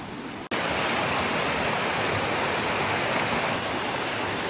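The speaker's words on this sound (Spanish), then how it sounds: "el agua cayendo, mágico." A waterfall pouring among trees at Odaesan in Korea, a dense, even roar of falling water that starts abruptly after a brief cut and stays constant and close.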